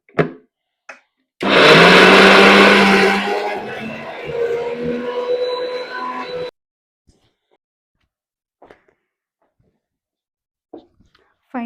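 A kitchen mixer grinder blends chutney in a loud, dense whirring burst lasting several seconds, its pitch dropping as it slows before cutting off, with brief quiet handling sounds around it.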